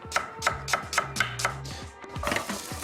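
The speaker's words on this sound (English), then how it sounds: "So, onion, 3 fingers, 1 in front, 2 behind, nice and fine." A knife chops an onion finely on a board in a home kitchen, giving about seven or eight crisp, evenly spaced thuds followed by a quicker, looser burst of cuts. It is close and clear, with no voices.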